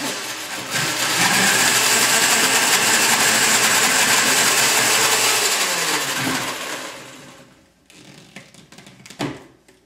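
A kitchen blender runs on its liquefy setting while making raw chocolate pudding. It spins up into a loud, steady whirring roar, holds for several seconds, then winds down, followed by a few quieter clunks and knocks.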